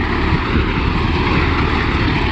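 Arjun 4x4 CRDI tractor engine pulling a plough through a burnt wheat field, a loud steady drone close by with no gaps or talk.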